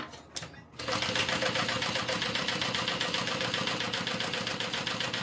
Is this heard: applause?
no